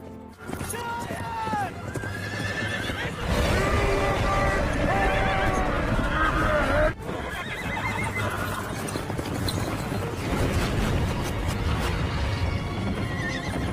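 Horses gallop and neigh in a fantasy film about a giant, with steady clip-clop hoofbeats and repeated whinnies while a narrator's voice talks over them.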